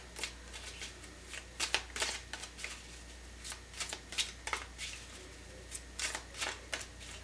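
Tarot cards shuffled by hand in a run of crisp riffling bursts and soft slaps, close and fairly quiet, with short pauses between handfuls and no talking.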